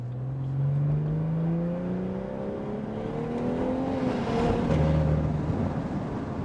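A fake BMW M2 accelerates hard, its engine drone climbing steadily in pitch as the car gains speed, heard from inside with road rumble beneath.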